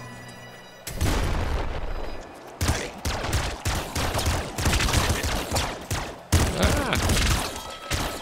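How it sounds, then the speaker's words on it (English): Dense, rapid bursts of machine gun fire from the top-down shooter Nuclear Throne, loud and nearly continuous, broken by a few short pauses and heavy impact thuds. "Yeah, machine gun. I like machine guns."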